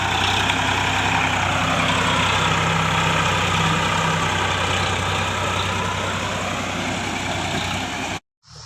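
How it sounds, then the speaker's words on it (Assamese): Steady low rumble of a tractor engine idling nearby, a constant throbbing drone that cuts off abruptly at the end. "এয়া ট্ৰেক্টৰ"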